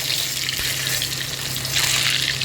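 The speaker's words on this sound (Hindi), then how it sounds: "प्याज को डाल के हम फ्राई करेंगे" Sliced onion dropped into hot oil for frying, a steady bright sizzle and crackle, close and fairly loud, swelling slightly near the end with a faint low hum beneath, no talking.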